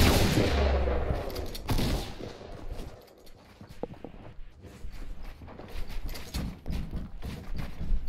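Rapid gunfire bursts from a shooter video game, loud and dense at first, dipping briefly, then returning as repeated shots and clattering impacts, with no speech.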